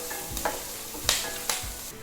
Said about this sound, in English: Now I'm going to add 3 cloves of garlic sliced and a 1-inch piece of ginger sliced